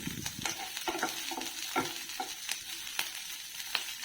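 Green chillies frying in oil in a kadai, a steady close sizzle broken by regular stirring clicks and scrapes of the spatula.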